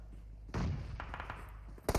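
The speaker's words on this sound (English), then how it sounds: "That's a vehicle explosion" A vehicle explodes during a PUBG Mobile esports match, a sudden heavy blast with a rumbling tail, followed by scattered crackles and a sharp double bang near the end.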